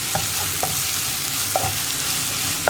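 Onions and masala sautéing in a pan for Kerala kadala curry, a steady close sizzle with a few soft stirring scrapes and clinks of the spatula spaced through the short stretch, no talk.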